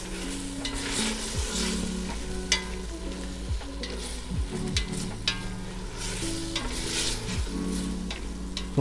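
Food browning in a pan sizzles and fries continuously while a utensil stirs it, scraping and clattering in irregular strokes close by, loud and steady with no talking.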